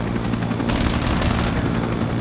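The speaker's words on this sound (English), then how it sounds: "Get that helicopter out of here," A helicopter gunship in the Arma 3 SOG Prairie Fire Vietnam-era game thunders close and loud, its dense rotor chop pulsing continuously with no pause.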